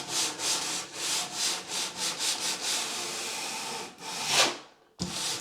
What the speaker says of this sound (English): I'm just going to give it a gentle sand down on that corner